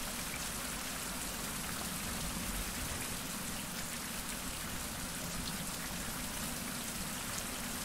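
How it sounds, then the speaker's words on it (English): Steady rain in a survival video game, a dense, even hiss of drops pattering on surfaces that holds at the same level throughout with no voices. "You know, we can stay out of the rain by going up through here."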